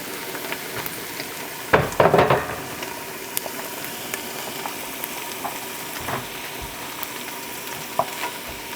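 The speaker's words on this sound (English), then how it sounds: "Give this a stir and allow it to cook for about 8 to 10 minutes over medium heat." Vegetables seasoned with black pepper cook over medium heat in a pan, giving a steady soft sizzle and crackle, with a short burst of stirring scrapes near the start and no talking.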